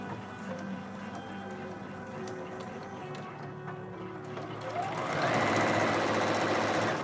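Sewing machine stitching jacket fabric, a steady close whirring run that grows louder and denser toward the end, with no talk.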